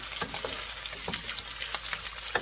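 Beef and vegetables sizzle in a hot pan during stir frying, a steady hissing fry broken by scraping and clicking as the food is tossed.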